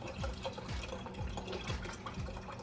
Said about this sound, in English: So I'm pouring the entire canister, and this canister is 900 milliliter canister.